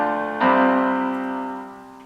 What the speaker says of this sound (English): Gets super huge and epic with some piano here with a lot of reverb on it.